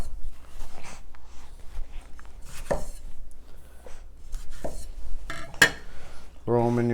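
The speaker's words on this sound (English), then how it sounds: "All you're going to do is cut your tomatoes in half." A knife chopping tomatoes in half on a board for roasted salsa, a handful of crisp, separate thunks spaced irregularly, with light clinks of a bowl and utensils near the end.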